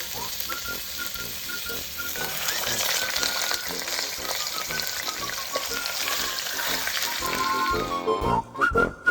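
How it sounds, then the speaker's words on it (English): Lamb shanks searing in a smoking hot pan give a steady, loud sizzle and crackle of fat throughout, broken by occasional clatter as the meat is moved. "And then into a nice smoking hot pan to get a little bit of color on them."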